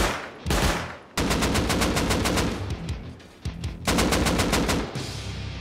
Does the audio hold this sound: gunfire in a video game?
yes